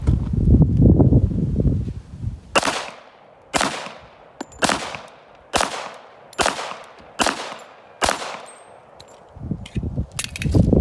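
A .45 ACP 1911 pistol fires about seven loud, evenly spaced single shots at an outdoor range, each crack ringing out briefly after a rumbling handling noise at the start.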